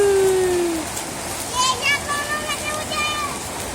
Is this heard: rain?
yes